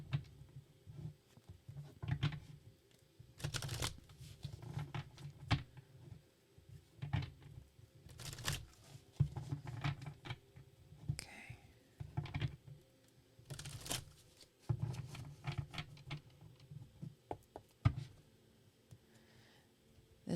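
A large tarot deck being shuffled by hand, its cards riffling and patting in irregular bursts of soft clicking and rustling, quiet and close, with no voices.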